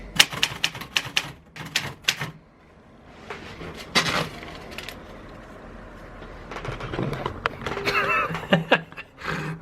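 A typewriter clacks in close, uneven bursts of rapid keystrokes with brief pauses, with faint laughter and voices in the background.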